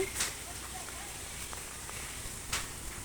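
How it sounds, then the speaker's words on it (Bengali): Stormy wind gusts ahead of rain in Bogura, Bangladesh, making a steady broad outdoor rush with a couple of brief sharp knocks standing out against it. "বৃষ্টির আগে ঝড়ো হাওয়া বইছে।"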